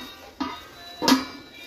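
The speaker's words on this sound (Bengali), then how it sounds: "ঢাকা লাগিয়ে দিলাম" Lid set onto a cooking pot on a gas stove, two short metallic clanks close by, the second louder, over a quiet background.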